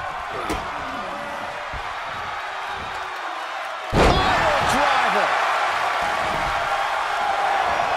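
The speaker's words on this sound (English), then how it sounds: "The sound of this crowd is deafening, and he's asking for more." A loud crowd roars in a wrestling video game, a dense cheering wash that swells after a sharp slam midway, with commentators talking over it.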